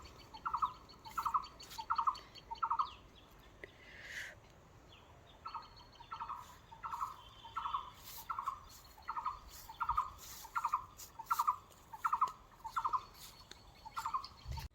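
Bird calls repeat in a steady, regular rhythm near Kaleswar temple, each call short and chirpy, set against a quiet outdoor background.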